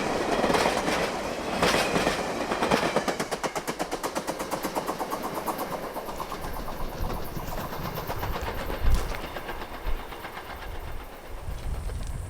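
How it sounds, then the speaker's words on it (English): A long freight train rolls past near a wilderness canoe route, a continuous loud rumble with a steady rapid clickety-clack of wheels over rail joints, swelling and easing slightly as the cars go by, with no voices. "some trains passing through while we were carrying the canoes"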